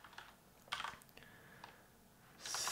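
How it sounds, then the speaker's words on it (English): Short bursts of typing on a computer keyboard, close and fairly soft, with scattered quick keystrokes and pauses, ending in a louder flurry of taps. "So let me type a sphere."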